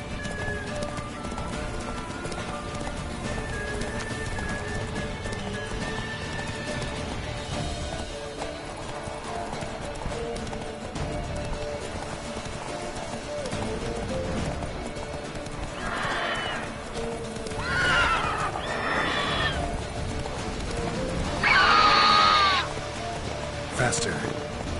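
The horse Roach gallops in the video game The Witcher 3, a fast, steady clip-clop of hooves running under game music and effects, with a voice speaking and a sharp whinny and combat sounds near the end.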